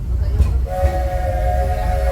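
A Walt Disney World Railroad train at Magic Kingdom moves along with a steady low rumble, and sustained whistle-like tones rise out of it partway through.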